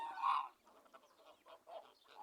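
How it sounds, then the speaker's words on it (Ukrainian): A goose gives a loud, harsh honk up close on a farm, followed by quieter cackling and honking calls from nearby fowl. "Гуси дуже голосно гелгочуть"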